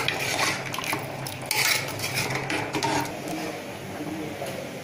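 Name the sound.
stirring curry in a pot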